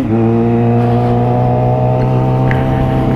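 Motorcycle ridden at night on a city road near the Marginal in São Paulo, its engine holding a steady, loud drone with sustained harmonic tones throughout, no talk over it.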